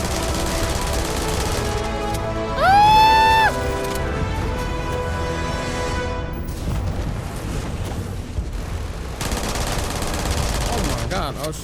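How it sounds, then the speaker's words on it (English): Gunfire from shooting in the space game Starfield: a dense, continuous loud rattle of shots with a brief rising whine early on and a voice faintly present. "I was shooting at the moon"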